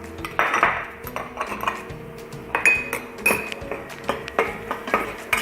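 Fish curry ingredients, with green chillies, are sautéed in a pan for a coconut-milk fish curry. A spoon makes repeated close scrapes and clinks against the pan in an irregular stirring rhythm, with no talking.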